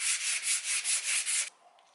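Rhythmic hand sanding of filler with 240-grit sandpaper, about six even back-and-forth rasping strokes, close and loud, then stopping abruptly.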